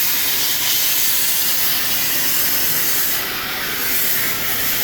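A 5x12 plasma CNC table slowly cuts quarter-inch metal, a loud, steady broadband hiss and roar with no pauses.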